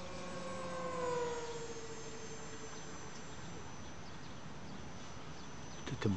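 A steady broadband engine roar with a slowly falling whine, like a small airplane approaching at a distance, continuous throughout with a brief bump near the end.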